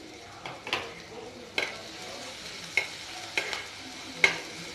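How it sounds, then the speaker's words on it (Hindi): Chillies and a coarsely pounded paste fry gently in a pan over a low flame with a soft, steady sizzle, broken by several sharp clicks and scrapes as a spoon stirs against the pan. "लो फ्लेम पे इसे हल्का सा भून लेते हैं"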